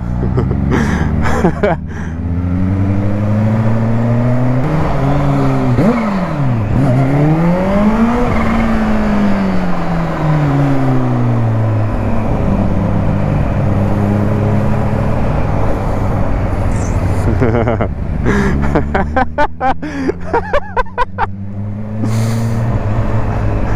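Kawasaki Ninja H2 motorcycle on a ride, its engine loud and close, revving up and down in sweeping rises and falls with gear changes and throttle blips, heavy wind rush underneath.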